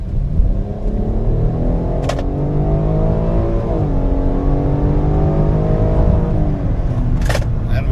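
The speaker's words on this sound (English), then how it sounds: "we're going to accelerate onto the highway here so I can show you guys what I mean about this being a very adequate powertrain" A Cadillac XT6 V6 SUV accelerates hard onto a highway, its engine note climbing steadily through the gears with brief shifts, a loud continuous rumble heard from inside the cabin.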